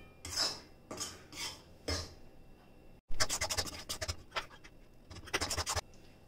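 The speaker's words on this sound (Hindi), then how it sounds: "बीच बीच में घी ऐड करते हुए हमें ये आटे को अच्छे से थोड़ा कलर चेंज हो जाए तब तक भून के लेना है" Flour roasts in ghee for methi laddoos while a spoon stirs it in the pan, making close, gritty scraping strokes, sparse at first and then a brisk run of rapid scrapes after a short pause.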